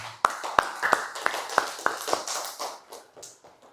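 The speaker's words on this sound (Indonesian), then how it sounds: "Oke, kasih aplaus buat Satria." Brief, sparse classroom clapping for a student, with a handful of sharp separate claps spread over a few seconds, fairly close and thinning out toward the end.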